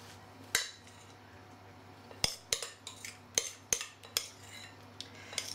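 A spoon scoops and scrapes cake and ice cream mixture into a terrine, giving sharp clinks of metal against a bowl in an irregular run over a low steady hum, close by and fairly quiet.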